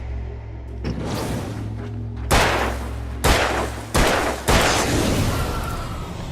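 Gunshots in the video game Alan Wake: four loud, separate booming shots about a second apart, each with a reverberant tail, coming after a rumbling eerie background.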